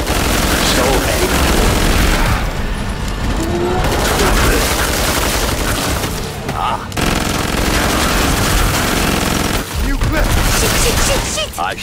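Gunfire in Killing Floor 2, with loud, close, rapid automatic bursts and heavy shots layered almost continuously, broken by a few short pauses, under talk.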